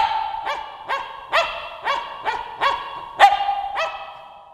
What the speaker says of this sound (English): he's about to bark